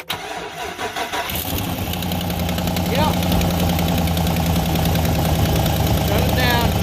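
A 2005 Chevy 2500 truck with a repaired bad engine ground cranks and catches, then settles into a steady, loud idle that continues to the end, with a brief spoken reply early on.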